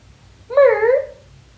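A single short meow from a cat, close and fairly loud, over a quiet low hum.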